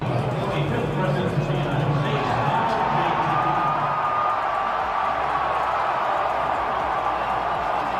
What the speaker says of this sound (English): Trump was welcomed by a roaring crowd in Alabama